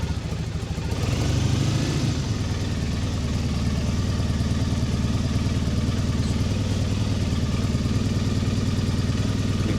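A Triumph Bonneville 790 motorcycle engine fires up without the choke after a brief crank and settles into a steady, even idle at close range, with no voices over it.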